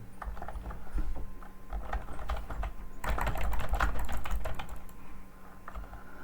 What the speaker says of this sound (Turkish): Klavye sesi geliyor mu acaba?